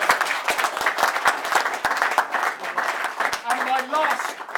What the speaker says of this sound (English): I just wanted to give Doug a clap.